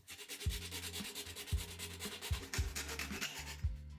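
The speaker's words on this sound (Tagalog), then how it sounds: "Pinutol natin ang minarkahang bahagi gamit ang metal na lagari." A metal hand saw cuts through a round plastic vitamin container in steady back-and-forth strokes, each pass a gritty rasping scrape repeating roughly once a second, close and alone.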